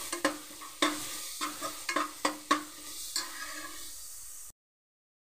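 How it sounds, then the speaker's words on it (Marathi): Garlic, green chili and ginger frying in a pan, a series of repeated sharp spatula scrapes and stirs over a soft sizzle, close, ending in a sudden silence. "लसूण पण चांगली फ्राय केले."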